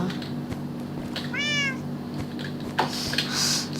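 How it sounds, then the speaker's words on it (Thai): A single drawn-out cat meow in a video game, clear and fairly close, rising then falling over a steady low background hum, with a few faint clicks. "เจ้าแมวน้อยเจ้าอยู่ไหนนะ"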